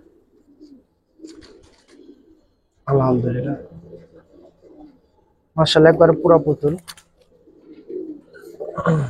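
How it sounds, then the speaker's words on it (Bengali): A male Silver Muslodom pigeon coos in two low, throaty bursts, close and fairly loud, while someone talks quietly around them. "এটা একটা নর কবুতর"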